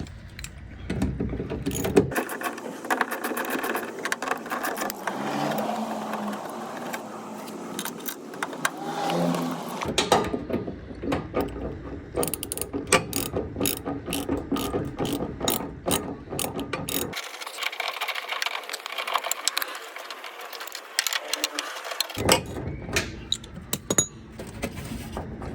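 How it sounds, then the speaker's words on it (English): A ratchet loosens two screws behind the license plate of a 1967-68 Camaro, with rapid clicking bursts running through most of the clip, close and fairly loud, and no talking. "Those are the 2 screws loosened up behind the license plate."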